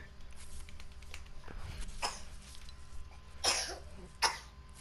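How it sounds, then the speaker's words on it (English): A few small, soft coughs from a person nearby during an online shooter game session, each a short breathy burst, with the clearest two close together near the end over a low, steady background hum. "That sounds like a cute cough."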